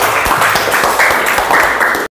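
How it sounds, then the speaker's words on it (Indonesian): Students applauding in a classroom, a short dense burst of hand clapping, loud and close, that stops abruptly. "Oke, tepuk tangan dulu untuk Subhan."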